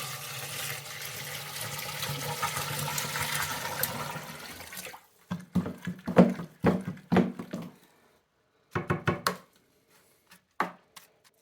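Sugar water is poured into a pumpkin for making wine, a steady liquid gush for several seconds, then a series of close, irregular knocks and splashes with pauses between.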